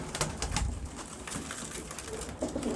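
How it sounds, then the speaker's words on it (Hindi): Pigeons coo in a crowded loft, soft murmuring calls blended with rustling, scratching and shuffling noises close by, a dense, busy texture without clear gaps. "ये सब बहुत अच्छे कबूतर हैं"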